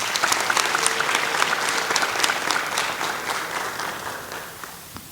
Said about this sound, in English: A round of applause for our brother.